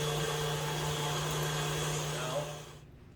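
A meat grinder runs fresh brisket through, a loud steady motor whine with a strong low hum, close by, then winds down and fades out near the end.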